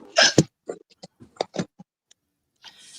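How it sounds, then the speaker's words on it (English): A string of short, sharp hiccups, about eight close bursts at uneven intervals, the first two loudest, with silence between them and no words spoken. "I didn't hear him over my hiccup."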